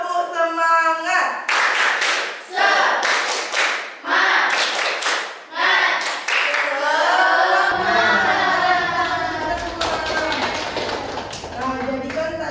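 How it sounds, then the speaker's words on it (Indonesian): A class of students does the rhythmic tepuk semangat spirit clap in a classroom, loud bursts of patterned clapping separated by short gaps, with voices chanting along. "1, 2, 3, tepuk semangat."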